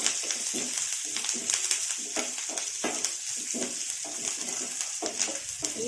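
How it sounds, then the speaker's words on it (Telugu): Green chilies, ginger pieces and curry leaves frying in a pan, a constant close sizzle with repeated stirring scrapes throughout, and a voice faintly underneath. "ఇవన్నీ పచ్చిమిరకాయలు, అల్లం ముక్క అండి, ఇవి కూడా కొంచెం వేయించుకోవాలి"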